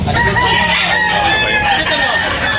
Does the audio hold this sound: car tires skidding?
no